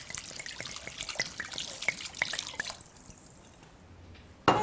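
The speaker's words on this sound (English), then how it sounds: "Now the wine, whole bottle white" A whole bottle of white wine glugs and splashes into a stew pot in an irregular stream for about three seconds, then stops, leaving quiet room tone and a brief knock at the end.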